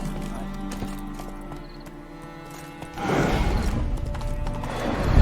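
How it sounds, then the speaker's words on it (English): Horse hooves clip-clop in The Witcher 3: Wild Hunt, soft and steady at first, then a louder burst of hoofbeats and movement takes over midway, with a brief whinny-like sound and game ambience underneath. "Bloody fine mount. Good stance, powerful rump, stable withers."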